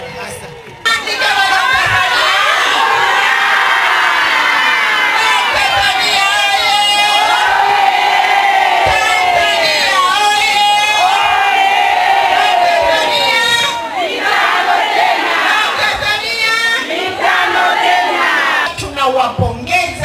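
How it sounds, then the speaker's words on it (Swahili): A large crowd cheers, whoops and roars at a public event honouring Dr. Samia Suluhu Hassan, a loud, dense swell of voices that runs almost the whole time and eases slightly near the end. "Piga makofi kwa Mheshimiwa Dr."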